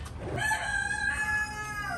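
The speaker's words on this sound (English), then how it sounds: "Forgive me for the roosters, the chickens." A single rooster crows close by, a drawn-out, strident call lasting about two seconds over faint background noise.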